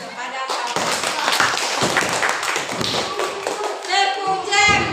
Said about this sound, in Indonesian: kasih tepuk tangan kepada kawan